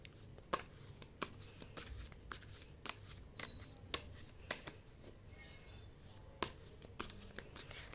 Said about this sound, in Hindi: इससे पहले मैं अच्छे से शफल कर देती हूँ।